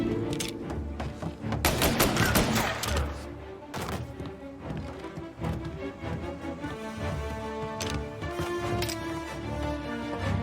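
A Mafia Definitive Edition shootout fills the space with scattered gunshots and heavy thuds, some loud and close, others fainter, in irregular bursts across several seconds over a low game backdrop.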